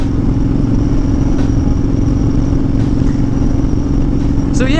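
A Honda Fury motorcycle engine runs steadily while riding, a loud, continuous low rumble with wind noise and a brief clatter at the very end.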